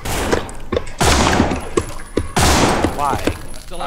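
Gunfire from the zombie survival game No More Room in Hell: three loud, abrupt blasts each ringing into a long crackling tail, with lighter single shots between them and a voice talking over the top.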